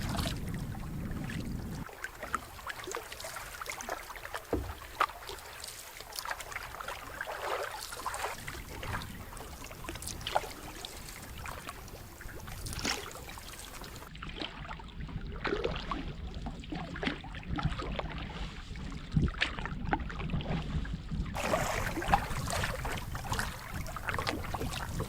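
A canoe glides on a wilderness lake in Quetico in early morning, with soft rhythmic paddle strokes and gentle water trickles and drips, under light wind and boat knocks.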